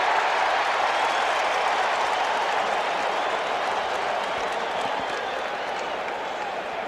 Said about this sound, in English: It is a festive, highly enthusiastic crowd as Wade Boggs awaits the first pitch.